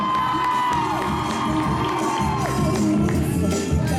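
Loud crowd cheering at a fan convention panel (JIBCON 2014) with excited shouts and whoops, a sustained roar that carries on without pause, some of it high-pitched like children.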